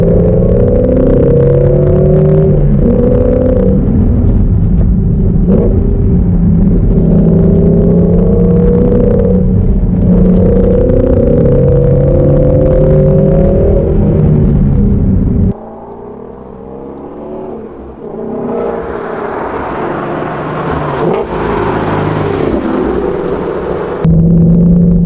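A Shelby GT350 Mustang driven in track mode with short shifting, its loud, steady engine drone holding under load, then dropping off briefly before climbing again into a rising, higher rev.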